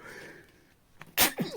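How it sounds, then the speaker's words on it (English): A single sharp sneeze bursts out near the end, loud and close, after a brief quiet stretch with faint vocal sounds. "a sneeze was coming through"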